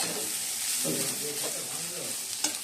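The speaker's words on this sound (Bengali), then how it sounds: "আলুগুলো ভালো করে কষিয়ে দিচ্ছি" Potatoes being sautéed and fried in a pan, a continuous soft sizzle with light stirring scrapes, fairly quiet and steady, with no one speaking.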